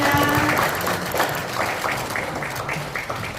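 A group gathered at a data center investment MOU signing ceremony claps together in a modest burst of applause, fairly close and steady, fading into scattered claps amid background chatter.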